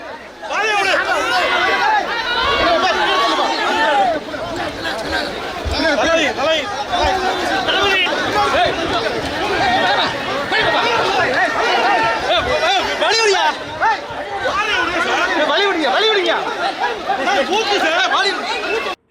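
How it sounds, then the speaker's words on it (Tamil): Dense crowd of fans chattering and cheering continuously around actor Vijay at a Neelankarai polling booth, a steady close hubbub of many voices with scattered laughs throughout. "ரசிகர்கள் விடாமல் ஆரவாரம் செய்தனர்"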